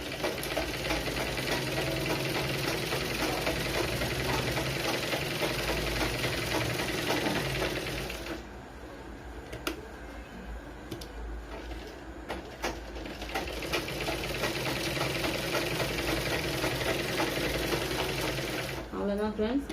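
A sewing machine stitching a blouse runs steadily and loudly with a continuous motor whir and needle clatter, dipping briefly in the middle before resuming at full pace.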